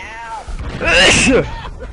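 A character in the video game Abe's Oddysee lets out a single sharp sneeze, loud and close, with a brief gasping build-up over about two seconds.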